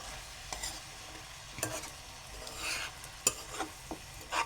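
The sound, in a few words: stirring fenugreek (methi) vegetable in a pan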